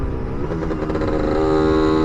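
Lambretta GL scooter with an original 150 engine riding under a heavy rider, a steady, close, loud two-stroke engine drone that holds a labouring tone throughout.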